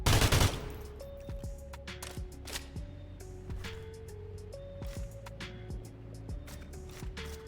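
Gun fitted with a muzzle brake in the game Sulfur, firing a loud opening burst followed by a quick series of sharp single shots at an uneven rhythm, each with a short ringing tail.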